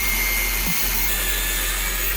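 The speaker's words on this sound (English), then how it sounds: "with an angle grinder, we will cut away all of those fang-shaped iron pieces" An angle grinder cuts the fang-shaped iron pieces off an alternator rotor held in a precision lathe, a loud, continuous, high whining roar with no pauses.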